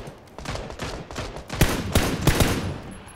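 Rapid gunfire from the player's own weapon in PUBG, several sharp shots in a quick cluster, loud and close over a low game ambience.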